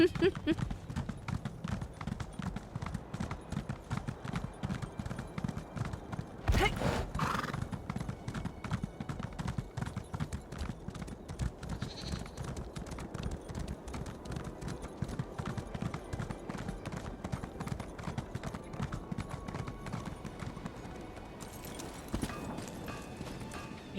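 Horse hooves clip-clopping in Elder Scrolls Online, a fast, even stream of hoofbeats throughout, with a few brief louder bursts and someone talking over it.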